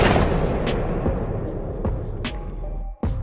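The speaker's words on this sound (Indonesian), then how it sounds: "Harper membuka kunci itu, kunci terbuka lalu pintu pun meledak." A door bursts open with explosive force in an animated horror story, heard as a dense rumbling blast with sharp cracking bursts on top and a brief dropout near the end.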